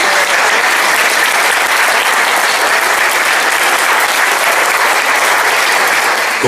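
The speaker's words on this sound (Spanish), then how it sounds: "Así que un aplauso, compañeros, para nosotros." Loud, sustained audience applause from a crowd at a Chilean Communist Party (PCAP) political event, steady dense clapping filling the whole stretch without a break.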